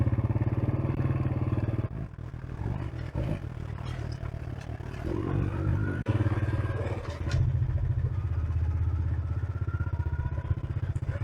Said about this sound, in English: So back on the bike again, and we'll go and have a bit more of a look around